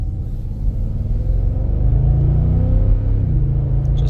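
A Mercedes-Benz G 550 4MATIC pulls away gently with a low engine rumble that builds slightly in pitch under light throttle, heard from inside the cabin with no talking.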